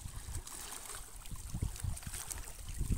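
Sea water sloshes and laps against the shore off a Croatian beach as a passing boat's wake rolls in, close splashy surges rising and falling over a faint background hiss.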